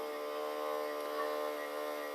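A PerfectDraft home beer dispenser pours Leffe into a glass, giving a steady, quiet hum-like hiss that runs unbroken and close.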